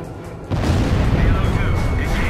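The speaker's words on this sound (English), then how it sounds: "Fox 2! Missile hit." A missile strike explosion in the combat flight game Ace Combat 5: The Unsung War, a loud, sustained booming rumble that erupts about half a second in and rolls on under engine and radio noise to the end.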